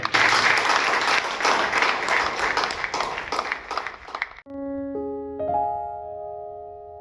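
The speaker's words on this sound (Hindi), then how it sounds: "यीशु मसीह के लिए एक उत्तम ताली आप में बताएं" A church congregation claps loudly together for about four seconds, a dense burst of applause that cuts off abruptly into a sustained keyboard chord.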